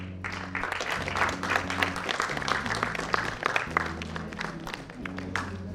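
An audience applauds during an award ceremony at a theatre event as honorees are named, a sustained crowd clapping with sharp individual claps over a steady low hum from the hall.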